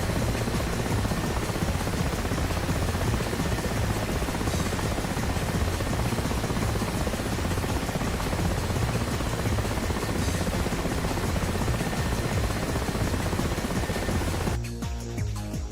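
Helicopters in the combat flight simulator DCS World during a dogfight competition, a loud constant rotor thrum and turbine whine that holds steady throughout, briefly shifting character near the end; no talk.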